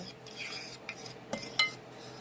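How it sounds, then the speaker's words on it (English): Melted butter is stirred into graham cracker crumbs for a cheesecake crust, giving soft, close scraping and a couple of light clinks of a utensil against the bowl, brief and quiet with no talking. "begin to just stir that all in together"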